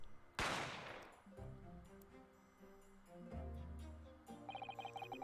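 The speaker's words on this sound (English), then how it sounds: "I didn't have time to think about where the sound of that gunshot had come from" A single loud gunshot bursts out near the start in The Great Ace Attorney, then fades into low game music with bright chiming notes; no one speaks.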